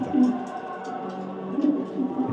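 Foreign-line pigeons, a young balanced pair, coo softly and repeatedly at close range, low murmuring calls rising in two brief swells amid a steady background hum.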